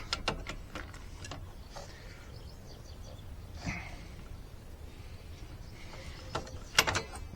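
A socket wrench loosening a bolt on a Lifan King motorcycle during an oil change and service gives quiet, intermittent bursts of ratcheting clicks and mechanical clatter, with a few sharper knocks.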